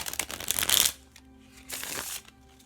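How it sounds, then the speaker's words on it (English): Tarot cards being shuffled up close in two quick riffling bursts, separated by a short pause. "Let's go ahead and give you another shuffle."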